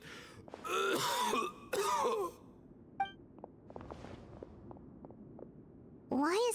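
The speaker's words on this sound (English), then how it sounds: "Why is he coughing so much?" A character in the video game Lupus Aureus coughing and clearing his throat in several harsh bursts, mixed with raspy breaths and short quiet sounds in between.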